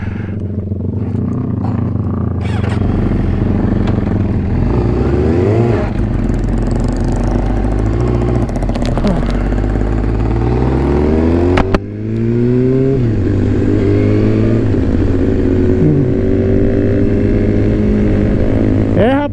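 A Yamaha R15 155cc and a Honda Start 160 motorcycle racing side by side, engines roaring loudly and rising in pitch through the gears, with a rider talking over helmet-muffled wind noise.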